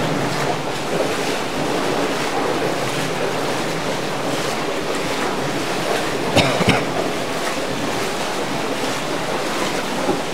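Water rushing in underground inside an abandoned tunnel of a wartime weapons factory, a loud, continuous roaring wash with a couple of brief knocks midway and no voices.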